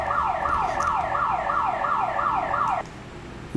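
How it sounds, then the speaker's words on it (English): A car alarm goes off outside, sounding a steady, repeating series of rising electronic whoops at moderate volume before cutting off abruptly near the end. "Whoops, somebody's car alarm has gone off."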